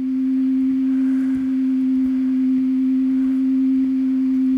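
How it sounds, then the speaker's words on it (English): A steady pure sine tone with a subtle wavering, tape-style volume fluctuation applied, held continuously and fairly loud with no other sounds. "this all sounds boring on a sine wave"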